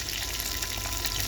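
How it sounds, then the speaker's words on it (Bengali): Fish fries in hot oil, a brief steady close sizzle with light crackle and no talking. "আজকে মাছ ভেজে ভুনা করব।"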